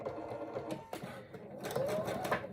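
A sewing machine stitches patchwork pieces at a quarter-inch seam, its needle whirring in short bursts that stop and restart for backstitching, close and fairly quiet.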